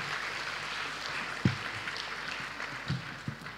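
Soft, distant clapping from an audience at a college orientation day welcoming the Student Council President, a steady wash of applause with a few sharper nearby claps and thumps.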